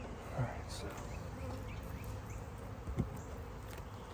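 Honey bees buzz around a beehive in a soft, continuous drone, with a few brief knocks and faint sounds from people nearby.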